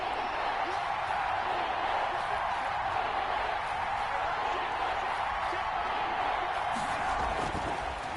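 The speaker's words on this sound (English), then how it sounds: "The crowd getting into it as we come up on a big 3rd down." A stadium crowd in a Madden NFL football game, Steelers against the Cardinals, builds toward a big third down. It is a steady, dense roar of cheering that holds evenly throughout without a break.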